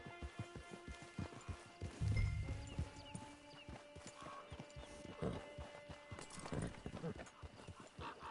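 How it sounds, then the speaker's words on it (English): Horse hooves clip-clop steadily in the Red Dead Redemption Online game, a brisk rhythmic trot heard near and clear, with voices talking over it. "Get your horse."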